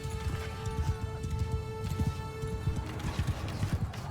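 Hoofbeats of many horses galloping during a Mount & Blade II: Bannerlord battle, with rapid, steady clip-clop, occasional whinnies and a low tonal hum.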